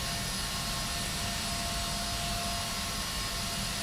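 In Flight Simulator X, an aircraft pushes back from the gate while its engines hold a constant, loud whine and roar with no breaks or talk.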